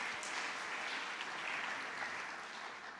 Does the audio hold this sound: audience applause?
yes